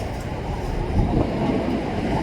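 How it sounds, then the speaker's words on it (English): A freight train with two locomotives and a few hopper cars rumbles past outdoors, a steady, loud low roar with no distinct clicks or horn. "Now for sure it's a train run anyway."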